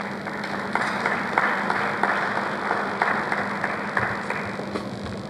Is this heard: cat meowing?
no